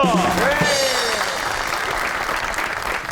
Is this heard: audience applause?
yes